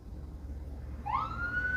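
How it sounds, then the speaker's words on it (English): Emergency vehicle sirens pass on a busy road, a wailing tone rising in partway through over a low traffic rumble, no one speaking. "I live next to a busy road and sirens just went by and made me jump."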